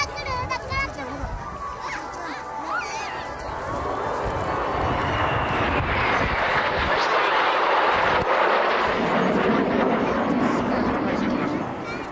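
Blue Impulse JASDF jets of the Japan Air Self-Defense Force entering from the west at a 1998 Hamamatsu air show, a broad jet roar building steadily and holding loud, with crowd chatter and children's voices near the start.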